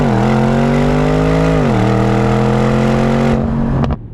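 A 641hp twin-turbo V8 Bentley Bentayga Speed SUV launching off the line, its loud engine rising steadily in pitch through a brief dip at a gear change, then dropping away abruptly at the end.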